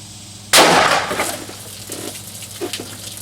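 A single sharp 9mm Extreme Shock shot from a Glock 34 with a roughly 5.5-inch barrel, fired into a water jug, loud and close, then a short decay and faint rattles.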